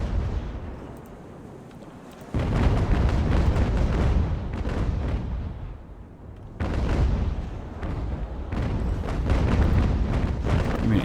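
Cannon broadsides and explosions roll through a naval battle between sailing warships in Ultimate Admiral: Age of Sail, heavy booming bursts coming in two dense waves over a continuous low rumble of gunfire.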